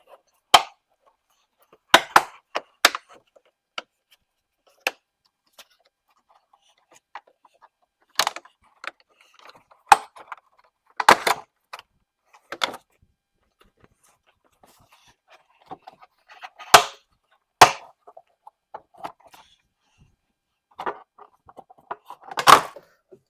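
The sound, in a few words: prying BMW X5 side skirt off its clips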